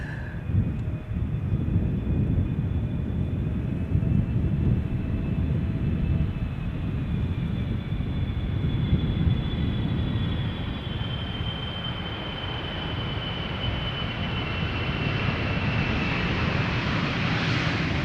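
An airplane at Schiphol Airport gives a steady, loud jet roar that fills the whole stretch, with a continuous engine whine gradually rising toward the end and no speech.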